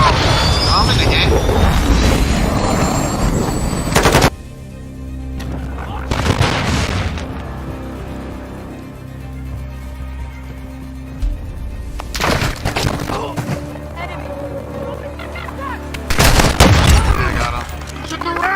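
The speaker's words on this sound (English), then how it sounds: "Friendly cruise missile inbound." A cruise missile strike and gunfire in a shooter video game: a heavy roaring wash of explosions and shots at the start, then sudden loud booming bursts near 6, 12 and 16 seconds over a low droning hum, with game voices talking in between.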